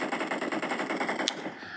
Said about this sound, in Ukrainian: Хтось щось ззаді стріляє.